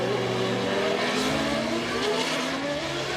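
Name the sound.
Auto GP race cars racing at Marrakech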